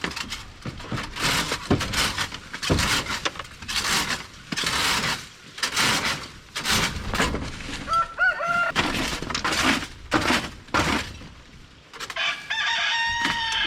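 Chickens cluck and squawk in bursts close by inside a coop, with a rooster crowing partway through and more crowing at the end.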